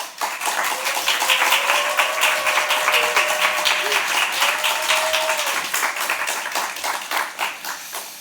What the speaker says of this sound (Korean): 나오실 때 큰 박수로 환영하고 축복하도록 하겠습니다.